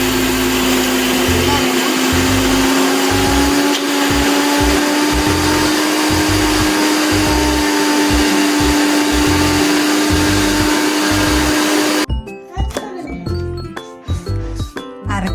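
A mixer grinder roars loudly while grinding ingredients for Chakka Puzhukku, a steady whining motor with rhythmic churning that stops abruptly near the end, followed by a few clinks.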